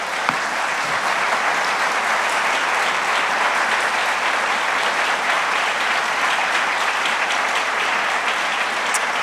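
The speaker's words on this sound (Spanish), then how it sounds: "Démosle un fuerte aplauso a la palabra de Dios." Church congregation applauding loudly and steadily during a sermon, a dense, continuous wash of clapping that holds at full strength for about nine seconds with no break.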